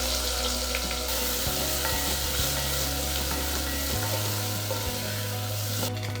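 Onion slices hit hot oil with burnt garlic in a pan for Indian sarson ka saag, giving a loud steady sizzle with stirring scrapes throughout.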